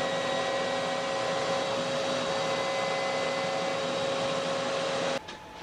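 A CNC machine planes a wood board, making a loud, steady machine drone with whining tones that runs without a break for about five seconds and then drops away abruptly.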